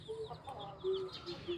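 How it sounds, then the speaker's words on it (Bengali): Chickens cluck while they feed nearby, giving short soft bursts and brief higher calls in a quick, uneven sequence with no talk over them. "আর মুরগিগুলা খাচ্ছে।"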